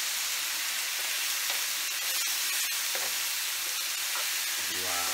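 Korean BBQ galbi beef short ribs brushed with marinade sizzle steadily in a hot pan, a continuous dense frying hiss with a few crackles and pops, close and fairly loud throughout.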